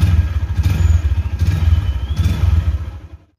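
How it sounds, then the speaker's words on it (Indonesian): Honda GL160 Primus motorcycle engine running with an even, throbbing low rumble and light mechanical clatter, close and loud, fading out at the end. "ketika aku belayar kayak gini masih ada treble-nya tuh"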